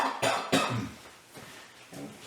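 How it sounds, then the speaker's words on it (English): A patient coughs several times during a thorax and lung exam, two sharp close coughs followed by softer throat-clearing coughs in a quiet room. "Can you please do a few coughs for me to clear out your airways before I start auscultating?"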